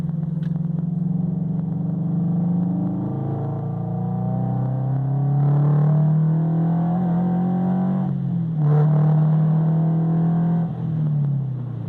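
A Subaru BRZ fitted with a Borla unequal length header accelerates up a highway on-ramp in third gear, the engine note climbing steadily through the revs, easing briefly and rising again, heard from inside the car with no talking.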